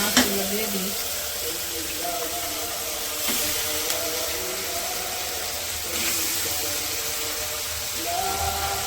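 Fish dropped into fried spice paste in a village kitchen pan, a loud continuous sizzle and hissing crackle with stirring scrapes, close and steady throughout.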